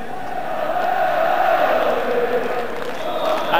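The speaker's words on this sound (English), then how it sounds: "the support of a very noisy crowd here at Ibrox Stadium" Dense, roaring crowd noise at Ibrox Stadium before a Rangers versus Raith Rovers football match, a steady loud wash of voices with no single voice standing out.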